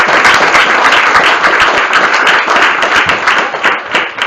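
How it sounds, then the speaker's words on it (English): An audience at a university earth-system sustainability panel session gives loud, sustained applause, dense clapping filling the room without a break from start to finish. "I would ask a big applause to all of them"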